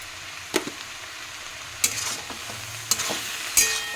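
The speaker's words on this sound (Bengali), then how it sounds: "এবারে খুব সুন্দরভাবে আবারও ওলট পালট করে বা নাড়াচাড়া করে নিচ্ছি" Potatoes, softened tomatoes and cabbage stirred in a pan for a vegetarian dish, four distinct spatula scrapes and clatters over a faint low sizzle, with quiet gaps between each.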